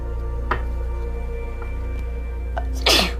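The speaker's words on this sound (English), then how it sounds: "And I feel a sneeze." A single sharp sneeze bursts out near the end, loud and close, after a quiet stretch with steady low hum and a couple of faint clicks.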